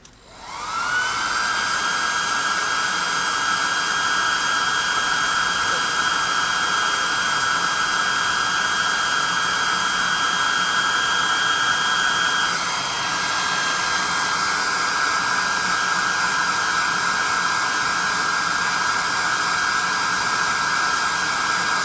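Hair dryer blowing on a freshly painted tabletop miniature, a steady, close whooshing hum with a high whine that runs without a break from start to finish.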